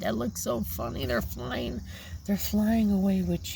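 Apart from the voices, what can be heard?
No everyday noises stand out.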